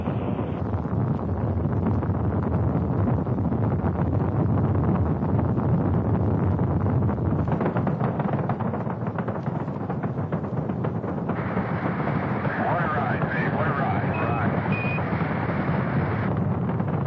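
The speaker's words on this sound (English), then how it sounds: "All engines running. Launch commit. Liftoff." Apollo 10 Saturn V rocket engines at liftoff, a continuous heavy rumbling roar that holds steady throughout with a harsh, wind-like texture and no voices.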